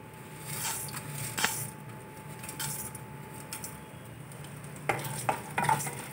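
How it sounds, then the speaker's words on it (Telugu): Peanuts, chana dal, coriander seeds and cumin seeds are dry roasted in a pan, giving a faint continuous sizzle with soft scraping stirs and occasional light clinks, without talk. "శనగపప్పు అయ్యి తొందరగా వేగుతాయి కదండి వేరుశనగ గుళ్ళు కన్నా"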